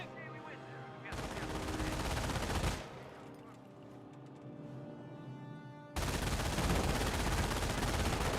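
Battlefield gunfire in the strategy game Company of Heroes, loud sustained bursts of rifle and machine-gun fire in two long stretches, separated by a quieter pause with distant combat noise.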